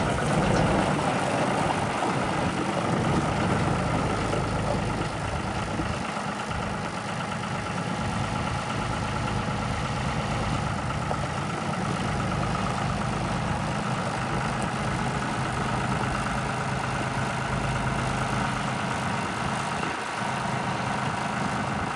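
A John Deere 5055D two-wheel-drive open-station tractor idles steadily nearby, its diesel engine giving a constant loud low rumble with no change in pitch and no voices.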